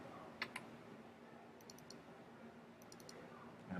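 Faint light clicks of a pen or mouse while editing nodes in drawing software, a couple of quick taps near the start and a few more scattered later over a low room hum.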